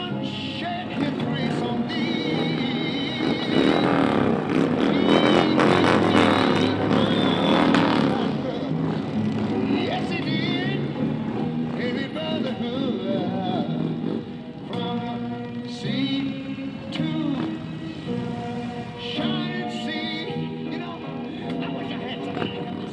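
Motorcycles ridden by an American Legion unit roll through a Veterans Day parade, engines rumbling and revving at close range amid crowd noise, with people talking over them throughout.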